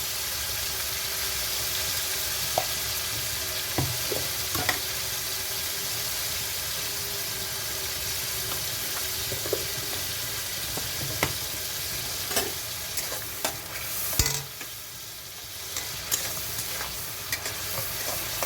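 Prawns frying lightly in a pan with turmeric and salt give a steady, close sizzle throughout, with scattered clicks and scrapes of stirring.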